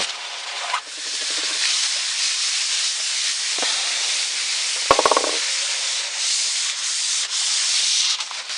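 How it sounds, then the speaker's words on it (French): A clean cloth rubs across a scratched television screen in steady, close strokes, a continuous dry swishing that pauses briefly partway through with a couple of faint clicks. "je vais nettoyer tout ça avec un chiffon propre"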